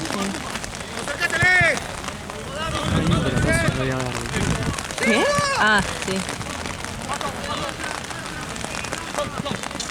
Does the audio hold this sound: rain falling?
yes